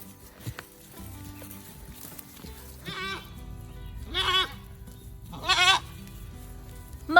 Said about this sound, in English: you are the most dramatic goat I have ever met